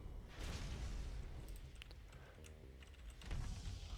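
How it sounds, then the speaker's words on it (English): Computer keyboard typing during Risk of Rain 2 play, a run of quick light clicks mixed under game booms and whooshes, fairly close but not loud. "You can probably hear me typing on the keyboard."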